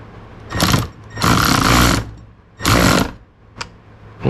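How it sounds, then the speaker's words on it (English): Power driver running screws into a smashed Stihl MS 280 chainsaw under repair, in loud close bursts: a short one, a long sustained run, another long burst, then a brief final whir. "These screws are going in good and tight"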